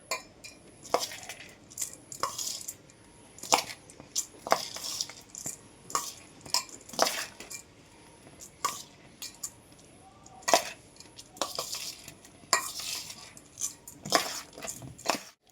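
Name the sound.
stirring and mixing pulao rice with ghee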